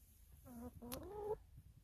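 Hens on an organic farm clucking close by, two or three drawn-out, rising clucks in quick succession over a faint farmyard background, with no voices.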